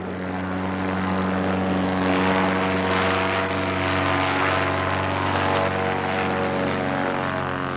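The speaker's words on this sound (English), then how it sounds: "perfect for float planes" A float plane flying over Ontario, a steady droning propeller engine hum that holds at an even, moderate level throughout with no talk.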